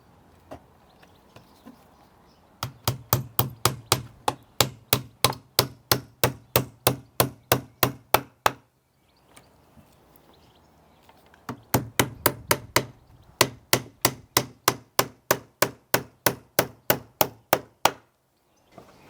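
Nails are hammered into the box joint of a wooden beehive super, sharp rapid knocks in two long runs of evenly spaced blows with a brief pause between them.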